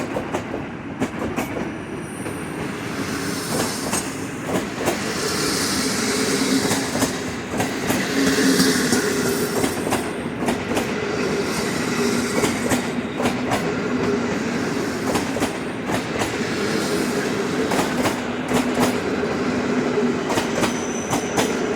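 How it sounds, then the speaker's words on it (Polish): A PKP Intercity passenger train passes through Kołobrzeg, its wheels beating a steady clickety-clack over rail joints with a sustained rolling rumble and faint metallic squeal, continuous and fairly close for over twenty seconds. "I proszę, Intercity Malczewski."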